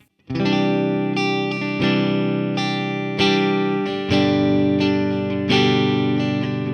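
Clean electric guitar chords ring out through a 1x12 California tweed cabinet, strummed several times with sustained, bright tones and a touch of room reverb.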